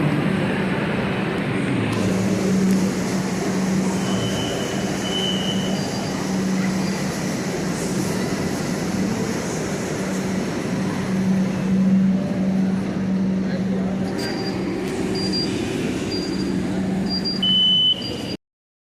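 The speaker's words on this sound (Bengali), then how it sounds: "মেট্রো এসে গেছে, আমরা এবার একে একে উঠে পড়বো।" A Kolkata metro train rumbles steadily at a platform, with high beeps and a squealing tone near the end before the sound cuts off.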